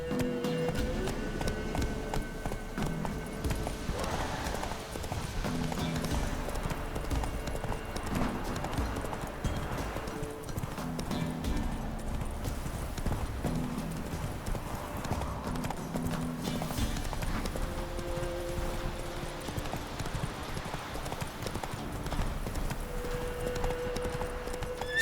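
Horse hooves clip-clop at a steady galloping rhythm throughout, loud and close, over continuous game music in The Witcher 3, with a brief voice now and then.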